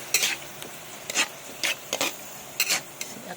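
Pieces of liver cooking in a pan, stirred with several short, distinct scraping strokes at irregular intervals over a faint background sizzle, with no voices.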